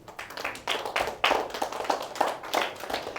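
An audience at a sales training session claps for a good answer, a fairly close burst of many hands patting in irregular waves that swell and ease over a few seconds.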